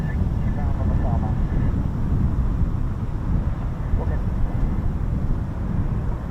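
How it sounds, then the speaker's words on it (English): A Typhoon fighter jet making a low approach at an RAF air base, a heavy continuous rumbling roar with wind buffeting the microphone throughout. "Definitely 1 Typhoon low approach."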